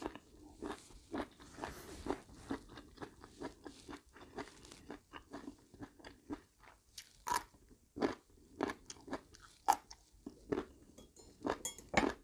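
Close chewing and biting while eating a meal of curry with rice, a series of soft crunchy bites and mouth sounds spread irregularly, fairly quiet with no talk.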